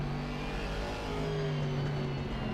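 An Aston Martin race car in a racing video game revs its engine with a steady, mid-pitched droning whine that climbs slightly, heard alone and fairly close.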